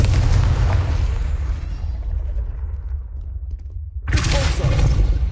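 A Confringo spell explosion in Hogwarts Legacy on PS5, a loud booming blast that rumbles and fades over several seconds before a second sharp burst erupts.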